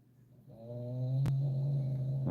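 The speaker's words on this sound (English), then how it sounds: "And the dog snores some more." A dog snoring close by, one long droning rasp that builds in loudness and holds steady, with a brief click partway through.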